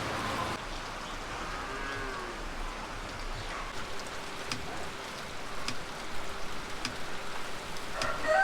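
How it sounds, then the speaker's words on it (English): Steady rain patters down on a farm, a soft continuous hiss with occasional sharper drops, growing slightly heavier toward the end. "I'm glad the cattle don't mind eating in the rain today."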